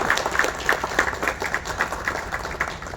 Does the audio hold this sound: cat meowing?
no